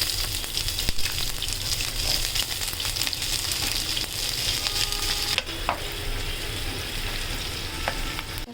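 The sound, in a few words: onion frying in oil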